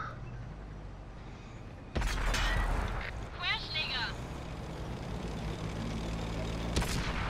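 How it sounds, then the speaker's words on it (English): Artillery fire in a video game: two heavy booming blasts several seconds apart, the first loud with a rumbling tail and the second fainter. A voice is heard briefly between them. "Fucking artillery."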